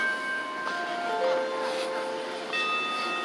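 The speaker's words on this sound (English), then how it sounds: "Church bells playing." Church bells ring out in sustained, overlapping tones, fairly distant, over a soft outdoor background hum.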